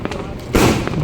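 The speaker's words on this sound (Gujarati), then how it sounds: "મંદિરે આવીને જોયું તો ફટાકડા ફોડતા હતા બધા" A firecracker goes off at a temple during Diwali, a single sudden loud bang with a brief crackling tail, while people talk in the background.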